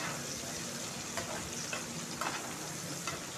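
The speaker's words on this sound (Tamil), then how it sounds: "நல்லா பொன்னிறமாக வர அளவுக்கு ஆனியனாக வதக்கிக்கோங்க" Onions frying in oil until golden for an egg noodle biryani, a soft continuous sizzle close by with a few faint clinks of a spoon stirring, quiet and without talk.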